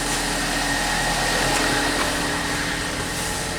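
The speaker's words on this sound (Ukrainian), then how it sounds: "Так, вентилятор, я так понял, кондиціонер включився." The air-conditioning fan of a Ford Escape runs with a steady, broadband whooshing hum, constant in level and fairly loud, with no voices over it.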